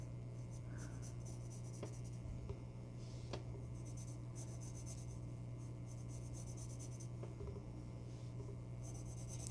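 A pencil lightly draws lines on paper for a mythical-creature sketch, giving soft, intermittent scratchy strokes in short bursts over a steady low background hum, close and quiet.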